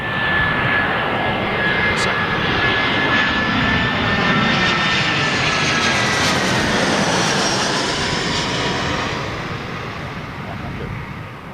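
Jet airliner engine at Heathrow runway 27L, a loud sustained roar that holds steady for most of the stretch before easing slightly near the end, with a faint whine above it and voices talking underneath.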